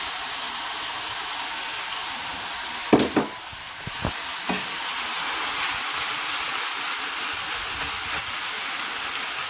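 Steak sizzling in a pan with grilled onions and mushrooms, a steady hissing fry broken by a few clattering knocks of meat and utensil early on, then an even, close sizzle.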